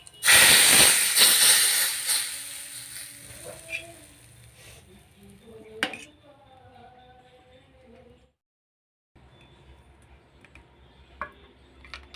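Asafoetida and red chilli hit hot oil for a tadka. A loud hiss bursts up at first, then fades into soft, scattered crackles and pops, with a brief silent gap near the end.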